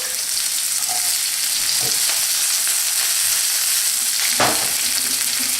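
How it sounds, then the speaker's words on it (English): Onion cooking in olive oil in a pan, a loud, steady frying sizzle with occasional stirring scrapes and a brief louder stir near the end, close and uninterrupted by speech. "Obviously some olive oil, which will be very good in the dip. Onion, let that onion cook."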